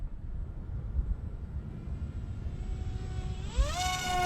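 A J-Wings Genesis park-flyer RC plane races past at full throttle, a steady whirring motor drone over wind rumble that sharpens into a rising, buzzing tone near the end as it closes in.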